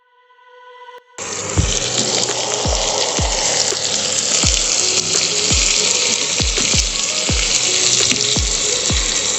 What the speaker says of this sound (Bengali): এক মিনিট মতো একটু ভেজে নিয়ে